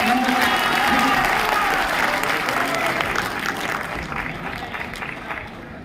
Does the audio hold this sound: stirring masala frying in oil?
no